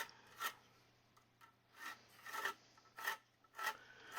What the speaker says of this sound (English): cut this part of the drywall out